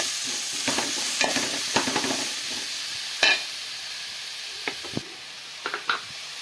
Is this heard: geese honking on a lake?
no